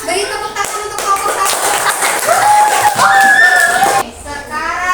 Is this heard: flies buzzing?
no